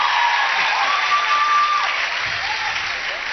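A Brazilian television studio audience claps in a steady, even burst with some faint voices underneath, holding at a constant level before easing slightly toward the end.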